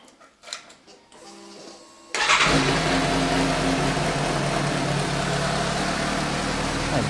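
A Suzuki GSX-S750 motorcycle engine is spun over after a spark plug change: faint clicks and a brief whir, then it fires abruptly into a loud, steady close-up idle.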